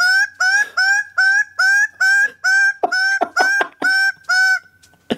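A single goose gives a long run of loud, nasal honks, about a dozen evenly spaced calls that grow harsher and more clustered toward the end before trailing off, cutting into a narrated recording with no talk audible.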